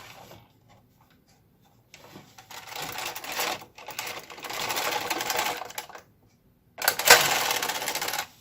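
A knitting machine carriage is pushed across rows, giving several loud whirring, clattering passes separated by brief pauses, close up with no voices.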